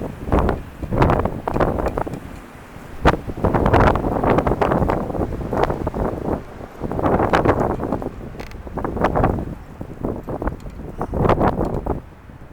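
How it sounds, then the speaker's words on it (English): Strong gusts of wind buffet the microphone outdoors, hard enough to lift a tripod leg, in repeated deep rumbling surges that rise and fall for the whole stretch. "puff of wind actually lifted one leg of the tripod up"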